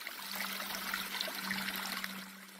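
Water trickling steadily out from under a tree beside a hiking trail, a faint continuous babble with no voices.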